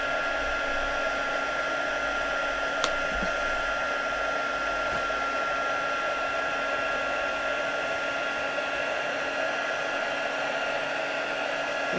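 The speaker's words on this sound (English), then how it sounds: "So you just want to move the heat tool over your image" A heat embossing tool blows hot air to melt embossing powder on a card, a steady loud whirring hiss with an even, unbroken drone throughout, a single faint click partway in.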